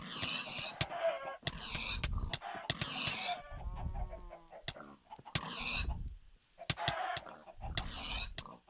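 Chickens in the Minecraft video game cluck in short repeated bursts amid sharp clicks and hits, fairly quiet and close in a busy game scene.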